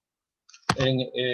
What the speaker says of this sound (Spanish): Al hacer clic en cualquiera de estos enlaces